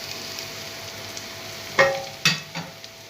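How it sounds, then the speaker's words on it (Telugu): Prawns fry in a pan with onions, giving a steady soft sizzle with a few sharp clatters of stirring near the end, close up. "ఇప్పుడు నెక్స్ట్ దీంట్లో రొయ్యలు వేసుకోవాలి."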